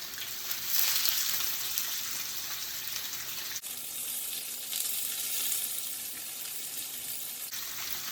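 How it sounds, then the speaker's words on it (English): Tofu pieces fry in oil in a grill pan, giving a steady, dense sizzle with faint pops; a brief clatter midway suggests the pieces being flipped, and the frying continues evenly afterward. "You just flip them over, pop them a little bit because of the oil."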